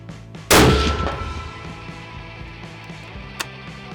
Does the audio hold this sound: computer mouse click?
no